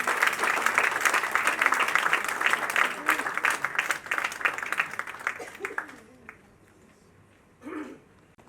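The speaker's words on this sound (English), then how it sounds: "Round of applause, ladies and gentlemen," Audience applause for Aditi Rao at a book unveiling, clapping loud and dense for several seconds, then fading out, with someone speaking over the tail end.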